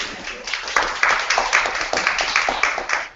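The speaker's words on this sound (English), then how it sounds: "Just by a sound of applause" An audience at a presentation to a nonprofit group claps together in a moderate, steady burst of overlapping hand claps that rises, then holds fairly evenly for several seconds.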